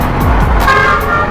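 A vehicle horn gives a short, loud honk close by amid road traffic noise, heard from a motorcycle, with a low engine hum underneath.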